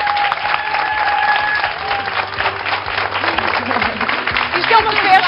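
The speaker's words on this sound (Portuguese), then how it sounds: "Um aplauso para a avó da Andreia." A studio audience on the premiere of a Portuguese afternoon television show applauds loudly and continuously, with voices talking over the clapping and a tonal background sound underneath.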